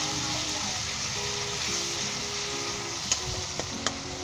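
Masala frying for yogurt-marinated chicken curry in a pan, a steady close sizzle running throughout with a few sharp clicks of a spoon near the end.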